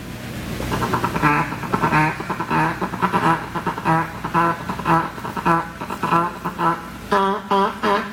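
An imitated mallard duck call: a loud, close series of nasal quacks in rhythmic bursts that run in descending sequences over several seconds, with no talking.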